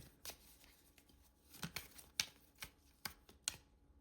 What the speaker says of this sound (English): I shuffled these cards, guys.